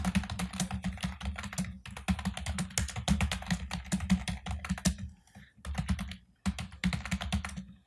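Steady typing on a computer keyboard while entering names into an Excel spreadsheet, with continuous rapid clicking and a couple of brief pauses, close and clear.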